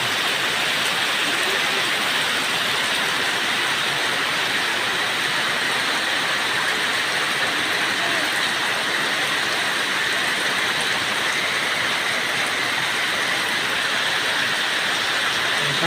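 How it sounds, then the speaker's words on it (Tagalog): A downpour of heavy rain falls steadily outside a house, a thick, even roar of spattering water that stays loud and constant the whole time without letup or voices. "Lakas-lakas ng ulan"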